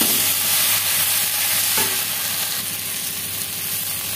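Soybean and potato curry sizzles loudly in a pan close up, the steady hiss broken by a brief scrape of stirring, with no one talking.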